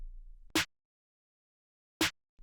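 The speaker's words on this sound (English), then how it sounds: "Here's the snare." A punchy snare drum sample from a hip-hop beat built in FL Studio hits twice, about one and a half seconds apart, each a short bright crack with a body thump, alone against silence.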